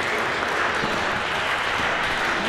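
A wrestling crowd at a Jimmy Wylde match cheers and claps in a dense, steady roar of applause that fills the whole moment without letup.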